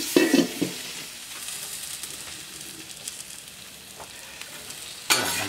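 Landes peppers cooking on a plancha give a continuous close sizzle and crackle, with a few scraping and stirring bumps at the start and end.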